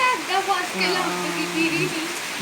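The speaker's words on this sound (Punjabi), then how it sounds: "ਦੇਖੋ ਜੀ ਸੌਣ ਦਾ ਪਹਿਲਾ ਮੀਂਹ ਕਿੰਨੇ ਵਧੀਆ ਜੋਰਾਂ ਸ਼ੋਰਾਂ ਤੇ ਪੈ ਰਹੇ" Heavy first monsoon rain pours down in a steady, dense hiss, with a person talking over it close by.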